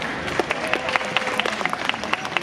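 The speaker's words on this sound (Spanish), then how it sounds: "Un aplauso para nuestro chavo." Audience applause at a live comedy show in Mérida, Yucatán, a steady patter of many hands with sharper claps popping out over a low crowd murmur, brief and fairly close.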